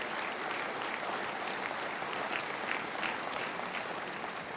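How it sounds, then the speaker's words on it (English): A large audience applauds to welcome engineering speakers at a live event, a quiet, even wash of many hands clapping that holds steady throughout. "all of you will join me in welcoming them with a big, thunderous round of applause"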